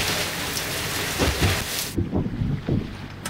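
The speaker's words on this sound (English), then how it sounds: "There's rain on like three sides of us" Rain falls around a boat at sea, a steady hiss of drops with a few low thumps, close by; the hiss cuts off sharply partway through and some thumping continues, with no talk.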